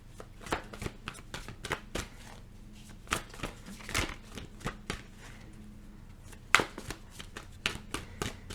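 Tarot cards being shuffled by hand in a quiet room, a steady run of crisp riffling flicks and soft slaps repeating at close range with no talking.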